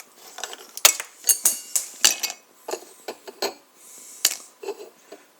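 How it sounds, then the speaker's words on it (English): Ice cubes dropping and clinking against a mug, a series of bright, hard knocks and rattles in quick irregular bursts, close and clear. "put in the ice cubes"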